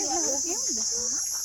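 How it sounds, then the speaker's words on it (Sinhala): Crickets in a forest give a continuous high, shrill chirring drone, while a voice speaks nearby over it. "රැහැයියන්ගේ හඬ තමයි ඇහෙන්නේ."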